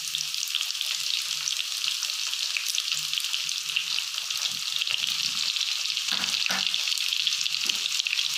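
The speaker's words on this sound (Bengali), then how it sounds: "মিডিয়াম আঁচে ভালো করে ভাজা ভাজা করে নিতে হবে।" Chopped onions fry in a pan over medium heat for a soya bean keema, giving a steady close sizzle with faint stirring scrapes throughout.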